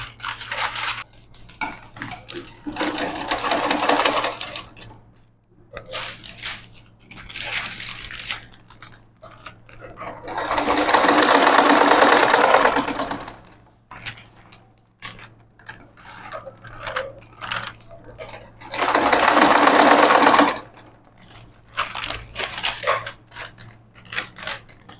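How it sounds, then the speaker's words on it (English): A sewing machine stitching fabric for a blazer whirs and clatters in bursts of several seconds, with a steady low hum throughout and short mechanical ticks between the runs. "I'm going to go to my measurement and to my sewing machine"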